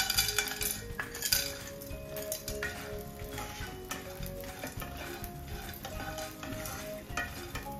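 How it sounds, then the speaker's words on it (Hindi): Janmashtami mewa pag ingredients roasting in ghee in a pan: a continuous close sizzle broken by metal spoon clinks and scrapes against the pan. "घी में रोस्ट करेंगे"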